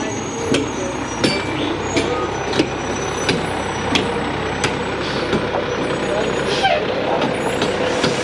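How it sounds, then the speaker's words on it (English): Concrete boom pump truck moving into position, its steady diesel engine rumble loud and close with sharp periodic ticks or clanks and a faint high tone, while someone talks over it. "So I'm going to pull his tires up, not too close to this edge here"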